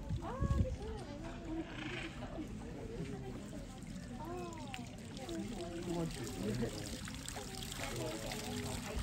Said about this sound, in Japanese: さあお湯の方出ますでしょうか。